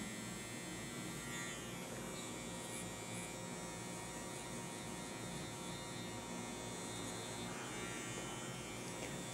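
Electric hair clipper cutting a child's hair during a traditional boys' haircut: a steady, close, continuous buzzing hum that runs unbroken for the whole stretch.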